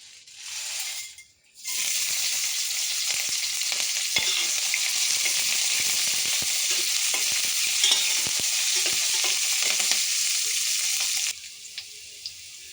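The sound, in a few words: whole spices (cloves, cumin, cardamom, pepper) frying in a pan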